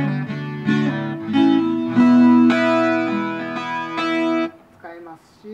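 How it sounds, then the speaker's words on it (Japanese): An instrument runs through a Roland effects unit with chorus applied lightly, its sustained notes and chords taking on a slight widening shimmer before the sound fades out. "コーラスをかけた感じになったりとか、まあ、薄くかけてもね、もちろんこんな感じでちょっと広がりのある感じで"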